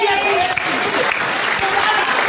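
A church congregation claps during a service, a dense, continuous wash of hand claps blended with voices and tonal sound from the room, loud and close throughout.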